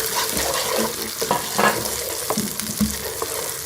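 Soy sauce and dry spices get stirred through a hot pan for manchurian chana chaat, a steady sizzle broken by scraping strokes of the spoon, close and alone with no talk.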